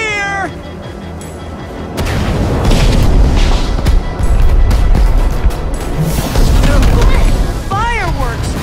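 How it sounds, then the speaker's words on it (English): Fireworks burst in Minecraft Story Mode as deep, loud booms and crackling roll on for several seconds, mixed with shrieking creature cries and voices. "Fireworks!"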